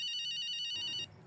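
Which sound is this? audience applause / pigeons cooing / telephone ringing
telephone ringing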